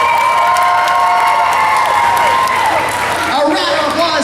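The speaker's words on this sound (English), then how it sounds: "One last round of applause for all of our fine contestants" Crowd at a comic con costume contest claps and cheers steadily throughout, a dense wash of applause with shouts, while an amplified host keeps talking over it.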